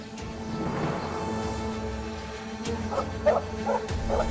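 A dog barks and yips in short bursts, with whimpering cries near the end, heard over a low background hum.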